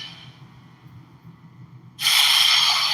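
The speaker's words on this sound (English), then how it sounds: "Hear that? That's what cooked when you order juicy beef sounds like." A juicy beef patty sizzles in a McDonald's radio ad, a bright, loud hiss bursting in abruptly after a quieter stretch of low background sound and holding steadily to the end.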